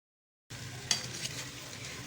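Chicken sautés in a pot over a medium flame, a soft continuous sizzle that starts after a moment of silence, with a brief clink of a spoon stirring.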